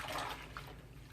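Knitted Trinity stitch scarf rinsed and swished gently through water, a soft continuous sloshing and trickling heard close by, with no voices.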